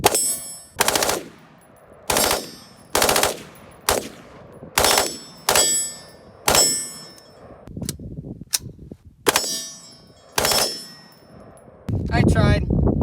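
A 5.56 rifle fitted with an FRT-15L3 forced-reset trigger fires a string of loud, sharp shots, evenly spaced and close by, with quiet gaps between them. A rustling handling noise follows at the end.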